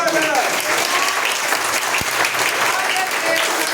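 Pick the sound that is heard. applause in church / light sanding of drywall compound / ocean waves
applause in church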